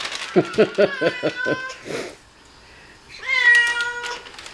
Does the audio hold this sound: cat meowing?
yes